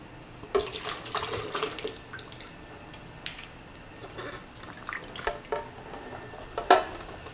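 Food being washed under running tap water in a kitchen, an intermittent splashing and trickling with small knocks and clatters, close and fairly quiet, with no voices.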